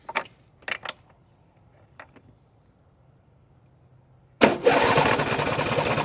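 A Mule utility vehicle engine, choked before starting, catches at once and settles into a loud, steady running roar after a few faint clicks and knocks from handling the machine.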